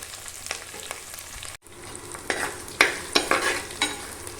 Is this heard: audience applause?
no